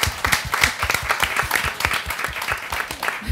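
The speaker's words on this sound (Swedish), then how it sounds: "Det är nästan värt ett applåd" An audience at a Swedish panel discussion on child and youth social care claps for a few seconds, the individual hand claps distinct and fairly close.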